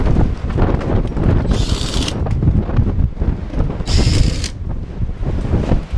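A drill driver fastening screws into tongue-and-groove framing, two loud bursts of whirring about two seconds apart, over a steady background of wind and handling noise.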